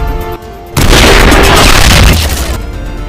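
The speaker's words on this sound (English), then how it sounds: "The explosion behind me wiped all evidence clean." A grenade detonates in one heavy, close boom that rolls on as a dense roar for over a second before fading into a lingering rumble.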